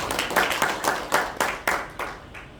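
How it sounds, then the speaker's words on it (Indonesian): A church congregation claps at a worship service, several bursts of hand-clapping swelling and fading in an uneven rhythm, fairly close and without voices. "Tepuk tangan dong buat dia."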